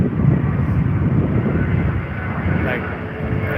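A Hawaiian Airlines Boeing 787 Dreamliner passes nearby, its jet engines a loud, broad, steady roar that eases slightly toward the end.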